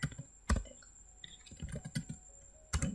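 Keys being pressed on a computer keyboard while saving code in a Node.js tutorial, a few quiet, sharp clicks scattered irregularly across three seconds against a faint background hum.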